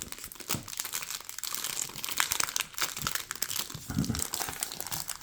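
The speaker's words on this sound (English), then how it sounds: "it is difficult sometimes to get the cards out of the packs" Crinkling and tearing wax wrappers while pulling 1987 Topps baseball cards out of packs from a rack box, a busy close rustle with small crunches, quiet and without speech.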